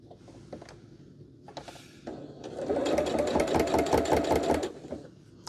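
A sewing machine stitches quilt block pieces together, running steadily for about two seconds after some quieter handling noises at the start, then stopping.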